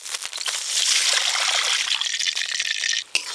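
Water pours into a cooking pot for mutton biryani, a close, steady splashing gush with trickling that runs for about three seconds before a brief stop and a small splash, no talking.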